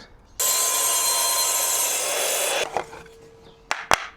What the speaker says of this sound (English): I'm going to cut these down to about 10 inches